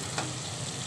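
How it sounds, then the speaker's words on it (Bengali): Fried potatoes are tossed into cooked spice masala for malai aloo, giving a brief, dense sizzle with a faint stirring scrape, close and continuous. "এবার এর মধ্যে আমি এই ভেজে রাখা আলুটা দিয়ে দিলাম।"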